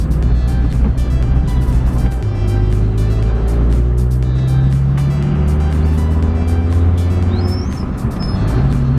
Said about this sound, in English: The G-Wagon is really loud.